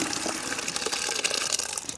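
Liquid pours into a bucket as a continuous splashy gush with bubbling flutter, fairly close and steady for two seconds without any talk.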